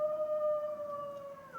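A long, wavering howl, thin and steady, slowly drifts lower in pitch like wolves crying at night as a film sound effect, fairly faint and alone with no talk over it.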